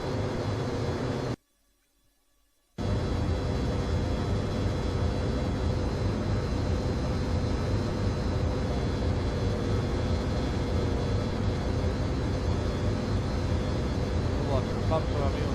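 Airliner engines drone steadily in a flight simulator as the plane accelerates with flaps retracting, a constant near roar broken once by a short silent gap.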